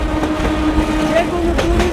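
A train on the Narayanganj to Dhaka line rolls toward Fatullah station, giving a steady rumble with faint squeals over it while a voice talks throughout.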